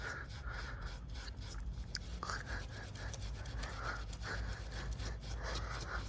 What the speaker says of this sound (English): I'm gonna take a little bit of steel wool, and I'm actually gonna gently